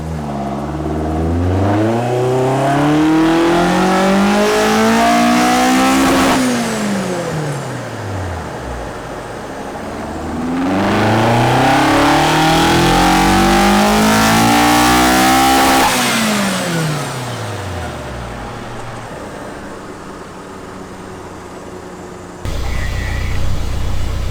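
A modified Toyota AE86 runs on a dyno, its engine climbing through two long, loud full-throttle revs that each wind up and then fall away, before it settles to a lower idle near the end.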